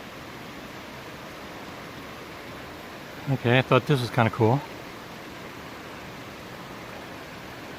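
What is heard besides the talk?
waterfall on the Appalachian Trail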